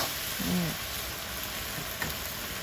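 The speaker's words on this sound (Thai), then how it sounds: "หัวหอมใหญ่กับมะเขือเทศใส่ลงไปแล้วก็ผัด" Onion and tomato fry in a pan under a soft, steady sizzle, with a faint brief tonal squeak early on and a single light utensil tap later, heard close with no voices.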